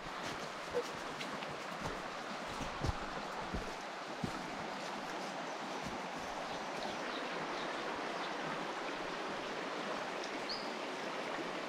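A river in the Buckland Valley rushes steadily with a broad, even wash of flowing water, moderately close and continuous, with faint wind noise and a few small knocks.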